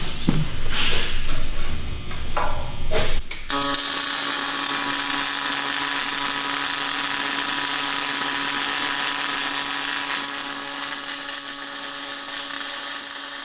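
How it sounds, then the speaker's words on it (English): Pulse MIG welding with a Millermatic 255, laying full welds out of position: a steady, loud buzzing crackle with a fixed pulsing hum that runs continuously for about ten seconds after a few brief starts. "So we're going to give this, we're going to make some full welds here."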